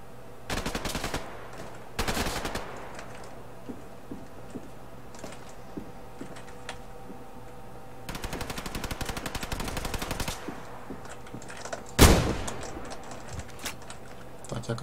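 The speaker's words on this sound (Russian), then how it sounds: "заметили просто, что были выстрелы рядом" Automatic gunfire in the video game Survarium, rapid bursts of rattling shots in several clusters with a sharp single crack late in the clip and quiet gaps between.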